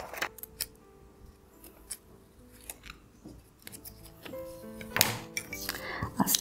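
Scissors snip and clack repeatedly through grey paper at a table during a children's paper-theatre craft activity, a string of short cutting sounds with light clinks and handling noise, fairly quiet.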